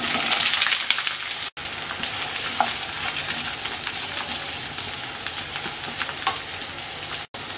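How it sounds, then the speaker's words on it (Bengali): Pieces of eggplant, 250 grams, frying in oil for a Bengali tangy-spicy eggplant bharta, with a loud, dense, continuous sizzle and crackle that cuts out briefly twice. "এবার আমরা ভেজে নেব বেগুন।"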